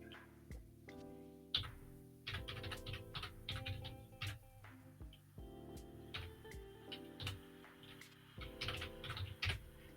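Fast, irregular clicking of a computer keyboard being typed on while filling in a crossword-style grid, near and quiet, in bursts with short pauses.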